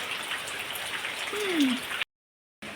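Rain patters steadily nearby, a soft continuous hiss broken by a short tonal squeak, then cut off by a brief silence before resuming.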